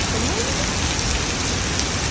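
Heavy rain pours down in a dense, unbroken hiss that stays loud and constant from start to finish, with no voices over it.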